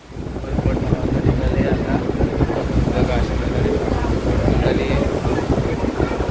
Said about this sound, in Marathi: आपली बोट निघाली आगाताटा जेटीमधून